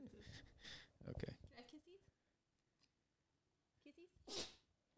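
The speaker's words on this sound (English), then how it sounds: "Bless you, Play." Short, sharp sneezes from a dog burst out close by, one early and another near the end, with a person talking briefly between them.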